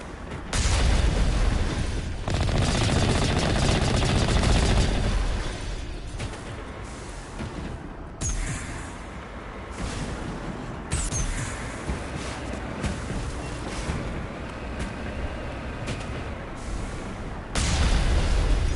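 Cannon and machine gun fire from a vehicle in the Mass Effect video game keep up a dense, continuous barrage of loud bursts and booms, with heavier blasts at the start and end.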